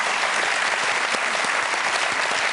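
A theater audience at a close-up magic show breaks into dense, steady applause after a card trick, loud and sustained throughout with no gaps.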